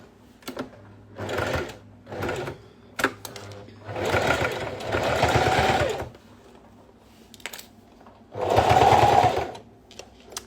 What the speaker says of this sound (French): je vais coudre tout le long à 1 cm du bord